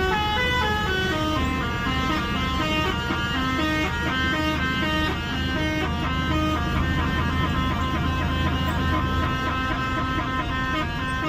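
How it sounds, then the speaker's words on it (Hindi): A truck's horn sounds in long sustained musical tones for about eleven seconds, loud and steady over the rumble of the moving truck on a rainy highway near Nakhatrana in Gujarat. "अब हम सुनाएंगे आपको गाड़ी का हॉर्न,"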